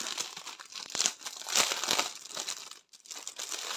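Sparkly glittered decorative envelopes in gold, grey and orange are handled close up, their paper crinkling and rustling continuously with a brief pause near the end, no talking.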